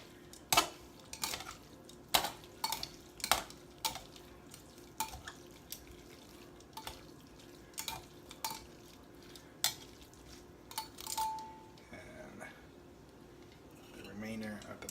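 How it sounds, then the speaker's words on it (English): Metal utensil clinks and scrapes against a pan while tomatoes and sauce are mixed, a series of sharp knocks and stirring sounds with faint sizzling underneath, close and fairly quiet. "Mix this sauce and the tomatoes."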